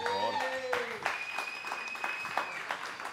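An audience applauds Alejandro Palacio at a lively vallenato bar gathering, with scattered claps, cheering and overlapping voices running throughout.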